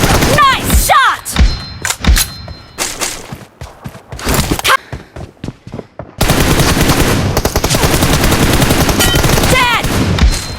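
Bursts of automatic gunfire in PUBG, loud and close, then a dense stretch of continuous rapid shooting, with voices talking over it.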